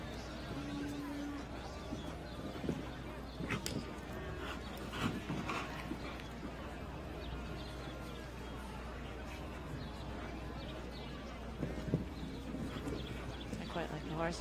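Horse hooves thud across a show jumping arena at a Longines FEI World Cup Jumping event in Guadalajara, a steady clip-clop heard faintly under crowd murmur and commentary.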